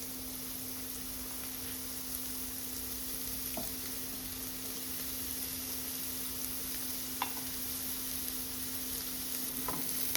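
Onion and chili sizzle in a pan with squid, a steady close frying hiss that goes on throughout with a few faint clinks of stirring.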